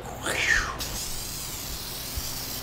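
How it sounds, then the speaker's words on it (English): A short hissing burst of spray into a two-part plaster mold for a Halloween prop, fading into a soft steady hiss with a low background hum. "they spray up and then down to make sure getting in all the cracks."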